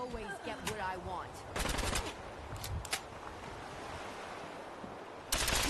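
Gunfire in the video game Fallout 4 comes in several sharp bursts, with the loudest volley near the middle and another at the end, over a steady noisy background.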